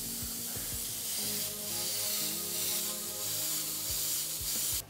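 An airbrush sprays paint onto a DIY motorized electric surfboard, a steady, close hiss with a few soft low thumps and handling noises, no talking.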